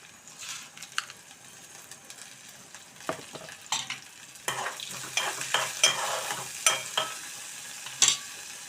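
Spices and curry leaves fry in hot oil for an okra and tomato curry, a steady close sizzle broken by frequent clicks and scrapes of stirring that grow busier as it goes on.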